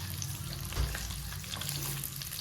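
Onion, tomato, cinnamon, cloves, chillies, peppercorns and ginger frying in a pan for an egg and chicken sambar, a steady close sizzle with a low hum beneath and one brief stir or knock.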